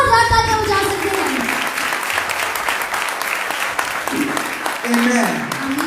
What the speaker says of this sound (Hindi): यीशु मसीह के लिए जोरदार तालियां बजा सकते हैं?